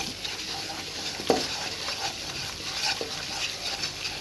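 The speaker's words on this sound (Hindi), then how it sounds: "यहाँ पे इसकी भुनाई करेंगे मक्खन और मैदे की" Flour being roasted in melted butter over a medium-low flame for white sauce, a low constant sizzle with occasional scraping strokes of a spoon against the pan, one sharper clink, no voices.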